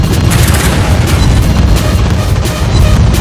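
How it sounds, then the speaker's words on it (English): A torpedo strikes a Des Moines cruiser in the naval game World of Warships Blitz, and a loud, deep explosion roars on for several seconds as a dense, sustained rumble. "Torpedoes! We're hit!"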